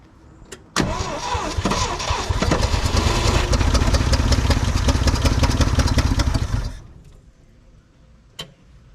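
An old Ford truck left sitting for over 20 years is cranked with the key and starts. A loud engine roars to life and runs unevenly for about six seconds at close range, then dies into quiet with a faint click afterward.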